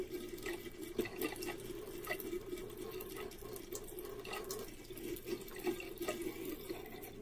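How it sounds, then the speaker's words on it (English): Water pours and splashes steadily from a container as floating matter is poured off a tomato seed mixture, a continuous close liquid gurgle with small surges. "Carefully pour off everything that floated to the top, making sure not to lose the seeds."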